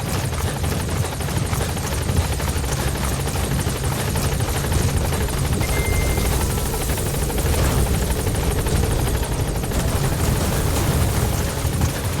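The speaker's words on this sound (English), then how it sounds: "Support helicopter has arrived." In the video game Metal Gear Solid V: The Phantom Pain, a support helicopter's rotor thunders continuously and loudly as it arrives, a dense steady roar with no pauses.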